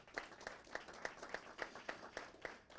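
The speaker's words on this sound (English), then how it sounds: "If we can give him a round of applause as well." A few people at a Moreno Valley city council meeting give a round of applause, faint and sparse, with several distinct claps falling at an even beat.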